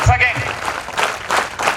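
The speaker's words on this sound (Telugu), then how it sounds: "ఒకసారి బిగ్ క్లాప్స్" An audience claps together at a school silver jubilee celebration marking Phule Jayanti, a dense burst of clapping with a few brief voices showing through.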